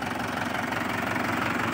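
Mahindra 585 DI tractor, a 2019 model, idling with a steady, continuous low engine rumble and faint knocking texture, close and fairly loud throughout, with no talking over it.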